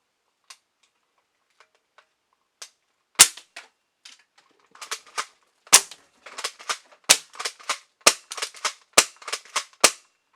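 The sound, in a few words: Game Face Voodoo airsoft shotgun firing BBs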